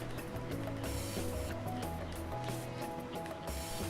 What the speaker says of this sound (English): you can adjust the aperture by turning this front command dial